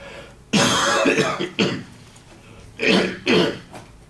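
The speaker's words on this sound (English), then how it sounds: "Help clear my throat there." A person clears their throat in several harsh, raspy bursts, with short pauses between them, close and fairly loud, with no talking.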